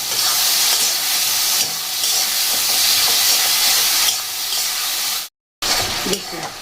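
Khichuri with ginger, cumin powder, coriander powder, green chili and batasa is stirred in a hot pan, giving a loud, continuous sizzling hiss that cuts out briefly near the end.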